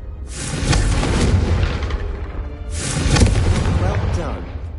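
Two fiery Confringo spell blasts from Hogwarts Legacy, each a loud booming whoosh that swells and trails off, the second following about two and a half seconds after the first.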